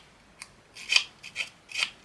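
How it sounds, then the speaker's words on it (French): Scissors scrape along the cut edge of scrapbooking paper to fray it, a series of short dry rasping strokes, close and fairly loud, with brief pauses between them and no talk. "Là on va prendre notre ciseau et on va venir en fait racler"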